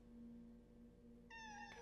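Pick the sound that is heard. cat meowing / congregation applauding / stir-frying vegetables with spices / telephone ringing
cat meowing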